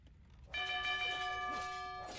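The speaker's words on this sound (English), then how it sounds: "Town bell has been rung." A town bell in a video game rings out loud and close, one strong struck tone with a shimmering overtone series that rings on and slowly decays over a faint background.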